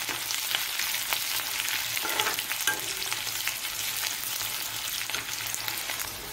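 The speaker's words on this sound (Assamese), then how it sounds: "পিঁয়াজটো ৰঙচুৱাকৈ অলপ ভাজিম" Chopped onion fries in hot oil with whole spices, browning toward a reddish colour, giving a close, continuous sizzle with crackles and the occasional scrape of stirring. No voices are heard.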